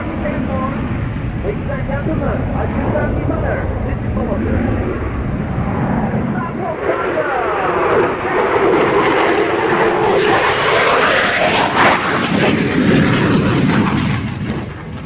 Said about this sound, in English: One of my favourite F-16 displays of all time. Here it is. The brilliant Solo Turk.